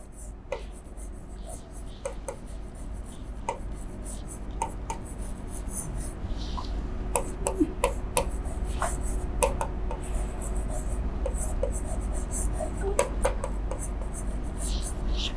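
Handwriting in an accounting lesson on partnership adjustments, a pen scratching and tapping on paper in short irregular strokes, faint and close, with occasional quiet voice sounds in a room with low hum.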